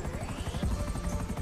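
A helicopter in the video game GTA 5 thrums with a steady, fast rotor chop and a low engine drone, close and fairly loud, holding constant throughout.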